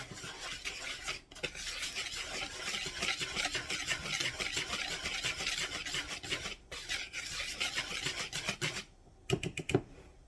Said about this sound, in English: you're going to take a tablespoon of sugar and you're going to whisk that together